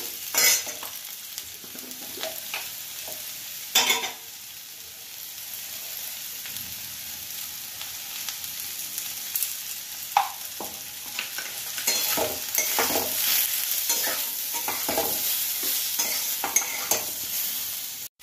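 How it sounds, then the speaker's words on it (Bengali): Potato and eggplant pieces fry with turmeric in a pan, giving a steady sizzle throughout with repeated scraping and stirring strokes that briefly swell louder, and no voices. "এবার আলু আর বেগুন একসাথে ভালো করে ভেজে নেব।"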